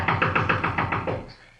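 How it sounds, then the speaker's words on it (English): Knocking on a door in a radio drama: a quick run of about eight sharp, evenly spaced raps, close and clear, then fading into quiet. "Knock again."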